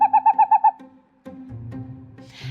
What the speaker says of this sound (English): We use a caller that is playing the male breeding song,